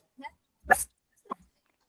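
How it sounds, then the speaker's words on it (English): Dog barks a few times, short sharp yips and one louder bark, fairly close and separated by silence. "The dog barked."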